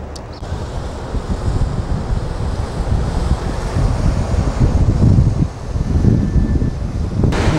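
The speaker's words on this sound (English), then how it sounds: "There's the water coming off of the dam, or as they call it, the falls." Water of the Spokane Falls pours over the dam in a constant heavy roar, broad and rushing, heard from a distance with wind buffeting the microphone.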